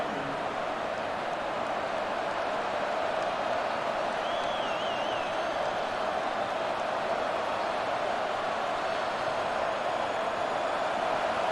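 A stadium crowd in the College Football 25 video game roars in a continuous, dense wash of noise during a big third down, steady and loud throughout with a faint whistle-like tone partway through.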